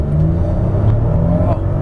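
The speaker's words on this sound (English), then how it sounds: "Do a 0-60 pull going up this hill." A 2017 Toyota Highlander XLE AWD SUV accelerates hard from a standstill up a hill with the air conditioning on, its engine giving a loud, steady rising drone heard from inside the cabin.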